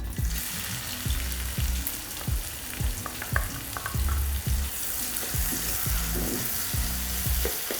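Cloves, cardamom and a bay leaf crackle in hot oil in an uruli, a heavy traditional pan, as sliced onions go in for a Kuttanad-style duck curry. A loud steady sizzle is broken by repeated scraping stirs.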